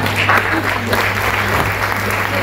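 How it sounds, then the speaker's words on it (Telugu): Audience clapping at a music and dance academy's anniversary celebration, a steady dense patter of applause lasting throughout over a constant low hum, with no voices standing out. "అందరూ చప్పట్లు కొట్టాలి బాగా"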